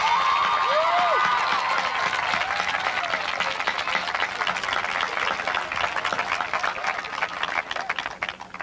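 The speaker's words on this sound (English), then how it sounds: "please give a warm round of applause to thank the people who are most responsible for your" A graduation audience applauds the parents with steady, fairly distant clapping that fills the hall and slowly thins, with a little crowd murmur.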